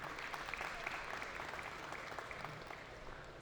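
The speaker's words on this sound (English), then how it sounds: "Once again, a round of applause for Dr. Antoine." Applause from the audience at a Caribbean food and beverage event during speeches, a fairly faint, even wash of clapping that holds steady for a few seconds.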